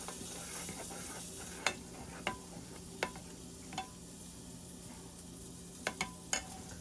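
Beef burger patties fry on low heat in a pan with a faint, steady sizzle, broken by a few sharp clicks and taps of cookware; no one speaks.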